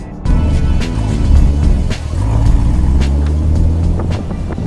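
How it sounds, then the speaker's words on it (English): A 2014 Chevrolet Corvette Stingray is driven hard through a corner, its engine a loud, continuous deep roar that swells and eases slightly as the car powers round, heard from inside or close by. "you can just come around a corner all day long with that nice linear power"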